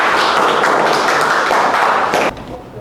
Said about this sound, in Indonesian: Beri tepuk tangan dulu untuk kelompok 3 ya